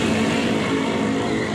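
Motorcycles pass along a nearly empty EDSA in Metro Manila during lockdown, with a steady close engine drone and hum lasting the short stretch, without voices.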